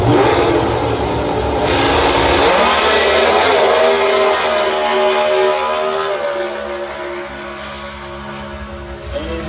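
A nitro drag racing car at Sydney Dragway roars down the strip, a loud sustained blast of engine noise that fades slightly toward the end of the run, with no talk.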